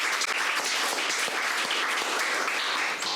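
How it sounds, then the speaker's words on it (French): Applause fills a French-language conference unveiling finalists for an arts and culture excellence prize, a dense, steady burst of many hands clapping at once. "Vous pouvez l'applaudir."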